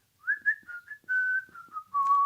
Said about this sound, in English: And could you whistle for us?